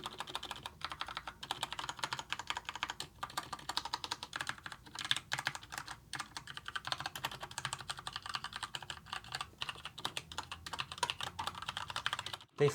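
Someone types on a Dierya DK63 budget wireless mechanical keyboard with unlubed switches, giving a fast, continuous run of close clicky keystrokes and short pauses throughout, with no talking.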